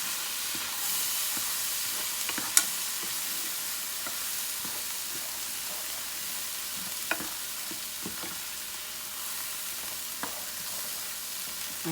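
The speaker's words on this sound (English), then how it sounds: "Now we can stir it into the vegetables." Scrambled eggs stirred into vegetables in a hot pan for shrimp fried rice, a steady sizzle and hiss with scattered scraping clicks of the utensil throughout.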